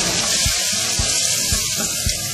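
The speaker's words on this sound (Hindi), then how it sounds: "अब इसमें करीब 1 कप के करीब पानी शामिल करेंगे" Water pours into a pot of browned meat for chicken korma, a steady splashing and sizzling rush with faint regular knocks underneath.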